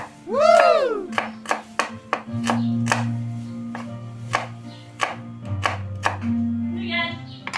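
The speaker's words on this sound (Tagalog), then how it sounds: "habang nagluluto tayo, maghiwan tayo ng sibuyas" Onions are chopped on a board while pork nilaga cooks, giving a steady run of sharp, close knife knocks over a low kitchen hum. A brief voice comes at the start.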